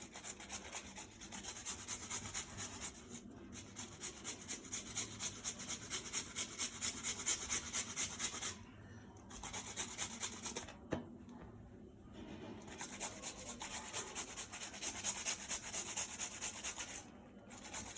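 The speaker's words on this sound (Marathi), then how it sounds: "तर आपला बटाटा किसून झाला आहे." Potato being grated by hand on a grater for soybean cutlets, a steady rhythmic rasping of repeated strokes, close and fairly loud, with a few short pauses.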